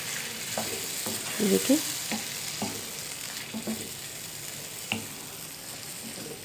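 A smooth butter chicken spice paste sizzles and fries in oil in a pan, a steady hiss with occasional stirring scrapes and clinks, close and alone; a voice speaks briefly.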